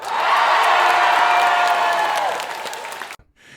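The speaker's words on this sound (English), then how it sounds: "I had a hand clap for that." An audience breaks into hand clapping mixed with cheers and whoops, a full steady burst of applause that holds, then tapers and cuts off abruptly near the end.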